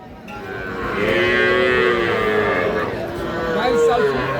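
A young heifer calf moos in a long, drawn-out, wavering call that swells and fades at a cattle market, with a second lower moo following close by.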